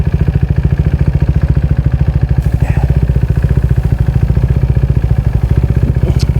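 A high-displacement motorcycle engine labors in low gear at slow riding speed. It gives a steady, loud, rapid pulsing throb with mechanical clatter that stays close and continuous throughout, with no voices.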